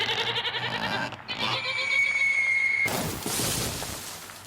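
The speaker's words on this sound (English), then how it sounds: "A mountain goat wearing Wellington boots." A mountain goat in Wellington boots, rendered as a comic sound effect: bleating goat calls and clattering, scuffling noises, followed by a sudden burst of crashing, shattering noise near the end.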